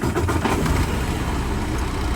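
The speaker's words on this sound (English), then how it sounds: "I'm gonna go ahead and start the truck" A Detroit DD13 truck diesel engine, showing a DOC temperature fault, runs with a loud, steady low rumble close by, a continuous dense drone with no pauses.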